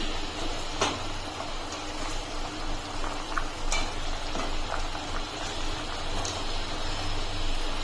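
Rohu fish curry broth boils in a pot with a steady, dense bubbling hiss and occasional louder pops throughout. Nothing else is heard.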